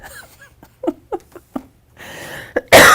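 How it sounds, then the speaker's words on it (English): A few short, breathy bursts are followed by one loud, harsh cough close to the microphone. "I put that in there so I could cough."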